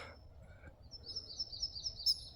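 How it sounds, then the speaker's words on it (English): Faint bird song in a mountain provincial park near Nelson, British Columbia, a quick series of high chirps repeating in a row against a quiet outdoor background. "I can hear birds."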